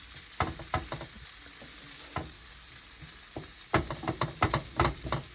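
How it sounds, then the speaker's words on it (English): Diced potatoes for home fries sauteing in a pan, a soft background sizzle broken by sharp scraping and clattering bursts as they are turned, clustered near the end. "So throw your potatoes right in, and that's really it. Then you just slowly kind of saute these"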